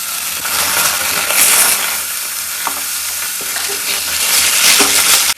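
Cumin, mustard seeds and ginger garlic paste fry in a little oil in a small pan, a loud, steady sizzle close by with occasional clicks from stirring.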